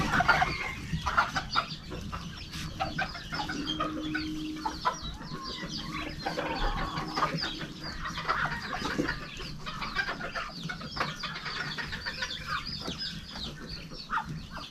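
Chickens and roosters cluck steadily around a farmyard, a mix of near and farther birds calling over continuous background noise with no talking.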